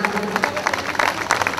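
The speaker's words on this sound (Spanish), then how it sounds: "El aplauso para la Virgencita" A crowd at a fair in Santa Isabel Cholula, Puebla applauds for the Virgin: a brief, loud burst of clapping mixed with voices and a faint musical tone.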